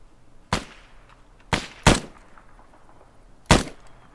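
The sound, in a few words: gunshot fired in a video game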